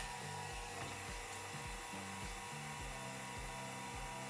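A vacuum pump hums steadily while stabilizing a hawthorn wood slingshot blank, giving a low, even motor drone with a faint rhythmic pulsing underneath, quiet and continuous throughout.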